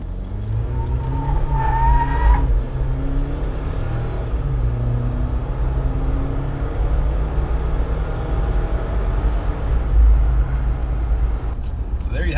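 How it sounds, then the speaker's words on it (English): A 2.0L turbo Jeep Wrangler JL accelerates hard from 0 to 60, its engine rising in pitch through several gear changes under a continuous road roar, with a person talking over it. "let's do a 0 to 60 run so you guys can see exactly what this thing can do"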